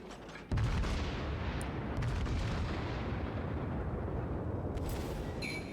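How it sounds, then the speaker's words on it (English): Battleship main guns fire in World of Warships with a sudden loud blast, followed by a long, dense rumbling roar that persists steadily, with a few sharp cracks late on. "just the sound of these guns is something I don't get tired of"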